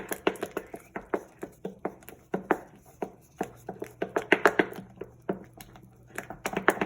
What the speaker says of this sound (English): I'm just going to keep stirring.